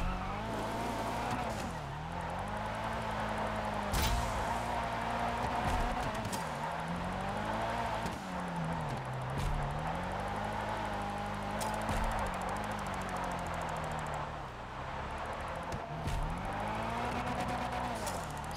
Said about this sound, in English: That was a terrible drift.